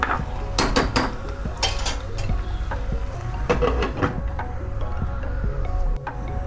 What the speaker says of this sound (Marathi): याच्यावर झाकण ठेवूया